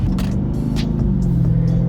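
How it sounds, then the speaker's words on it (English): A 2018 Dodge Charger Daytona 392 V8 idles on its stock exhaust, giving a steady deep rumble and hum, close and fairly loud, with brief faint hiss bursts over it and no talk. "let's hear this car how it sounds for the last time"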